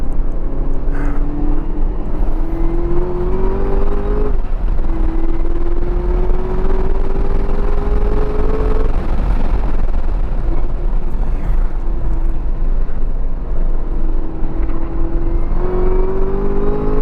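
A 2018 Chevrolet Camaro ZL1 1LE pulls hard around a race track, its loud engine note climbing steadily through several gears with brief dips at each shift and no talking.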